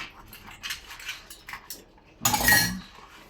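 Dishes and cutlery being washed, with light clinks and clatter of utensils and plates, then a louder burst of rattling and running water near the end, close by and with no talking.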